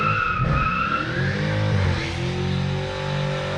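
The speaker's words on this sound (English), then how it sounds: "he's got a Hellcat across the street doing some burnouts" Dodge Hellcat doing burnouts across the street, its engine revving hard as tires squeal and skid, heard at a moderate distance for a few seconds.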